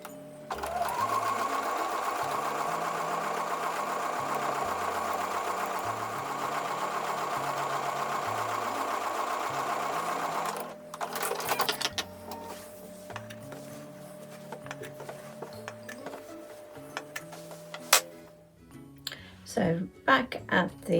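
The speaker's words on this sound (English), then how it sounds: "take those over to the sewing machine and sew a 1/4 inch seam" A sewing machine hums in a fast, steady run stitching a quarter-inch seam on pinned quilt blocks for about ten seconds, then stops, followed by handling clatter and a few short bursts.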